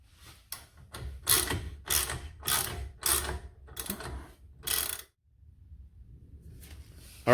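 A ratchet socket wrench works loose a fully rusted-on part near a rotor, giving a series of close, sharp clicking strokes in a quick irregular rhythm, then a pause of low rustling before a final click.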